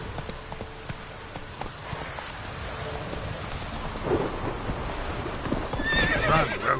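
Geralt's horse Roach galloping in The Witcher 3, steady hoof clatter with wind and rain-like noise, building to a sharp whinny near the end, no talk.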